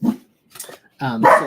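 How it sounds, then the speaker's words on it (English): A dog barks indoors, a short bark, then a pause, then a louder burst of two or three barks close by, with no other sound between. "So that was my dog who wanted to read as well."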